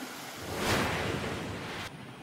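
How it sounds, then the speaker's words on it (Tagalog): Floodwater rushing down a street like a river in Atimonan, Quezon, a dense, steady roar of flowing water swelling slightly before easing, with no voices. "Nagmistulang ilog naman ang kalyeng yan sa Atimonan, Quezon dahil sa pag-agos ng baha."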